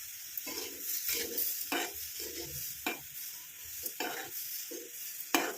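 Amla (gooseberry) mixture bubbles in an iron kadai while a spoon stirs it, giving repeated scraping strokes about every second over a soft continuous sizzle, close and moderately loud with no talking.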